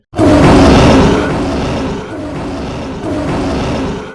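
A lion in an animated jungle tale lets out a loud, sustained roar that booms and echoes off the hills, swelling and dipping for several seconds.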